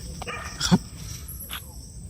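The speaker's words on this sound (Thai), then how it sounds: "หมาก็เห่าด้วย" A dog barks faintly a couple of times in the distance at night near a cemetery, over a steady background of chirping insects.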